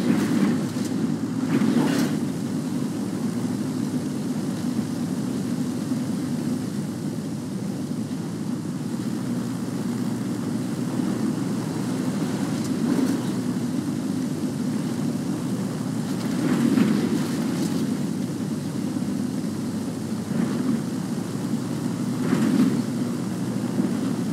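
A propeller plane in the video game Ghost Recon Wildlands drones steadily at close range, with a low engine hum and occasional brief whooshes of wind, and no voices.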